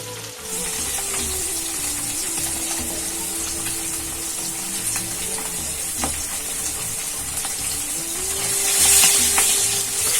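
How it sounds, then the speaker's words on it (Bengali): Freshly cut local freshwater fish fry in hot oil in a pan, being turned over as they cook for a sour fish curry, giving a loud, steady sizzle and crackle throughout with no talking. "এভাবে উল্টে পাল্টে সব মাছগুলো ভেজে নেব"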